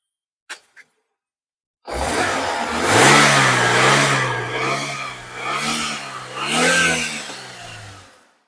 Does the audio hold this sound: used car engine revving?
yes